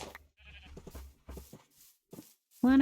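A sheep in the Minecraft video game bleats loudly at the end, after a stretch of quieter scattered game sounds and soft clicks, with no one speaking.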